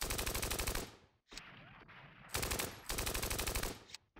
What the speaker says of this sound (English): Let's fire in this cluster here.